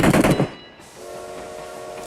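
Gunfire in an online shooter game, a loud burst of rapid shots at the start that fades into a steady mechanical hum with a faint tonal whine, with no talking.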